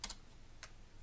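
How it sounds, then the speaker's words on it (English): Faint typing of a terminal command on a computer keyboard used with a Raspberry Pi 4 1GB: two quick, light key clicks, well separated, in a quiet room. "So in terminal, we can type 3-H."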